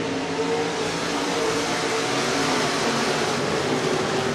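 USAC sprint cars power out of turn four on a red dirt raceway, their engines blending into a steady, loud, unbroken roar with no clear gaps or voices.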